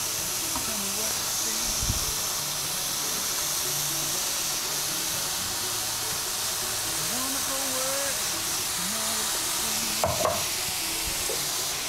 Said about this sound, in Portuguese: E a gente vai, então, grelhar essas fatias de bacon